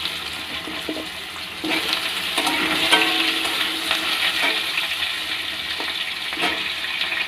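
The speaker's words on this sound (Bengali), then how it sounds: "দিয়ে এর সাথেই আমি আলু কেটে দিয়ে দিলাম।" Cut potatoes frying in oil with five-spice tempering, a steady loud sizzle and hiss that swells slightly after the first second and continues unbroken, with faint stirring scrapes and no talking.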